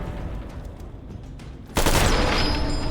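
Enemy gunfire in the Fallout video game, a rapid burst of shots building into a sudden loud, dense blast of fire that stays close and harsh to the end.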